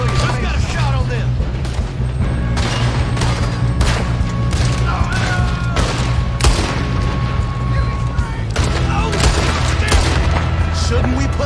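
Gunfight in Red Dead Redemption 2: repeated sharp gunshots and volleys crack over a steady low rumble throughout, loud and close, with voices calling out between shots.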